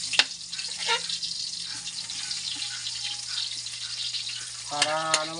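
Food, with onions among the ingredients, fries in a home pan for a family meal, a continuous close sizzle with occasional stirring scrapes, and a brief faint voice near the end.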